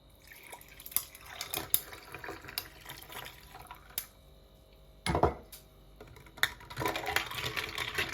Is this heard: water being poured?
yes